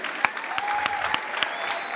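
An audience at an evening leadership celebration gives a loud, sustained round of applause honoring spouses, with dense continuous clapping and a few sharper individual claps standing out.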